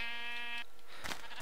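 A Minecraft sheep on a survival server gives a short bleat, a buzzy, nasal tone that sounds once and then cuts off, followed by a brief breathy noise.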